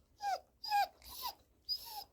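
A puppy in a shed being fitted with a metal roof and LED lights whimpers in four separate high, falling whines with short pauses between them, close and clear with no talking.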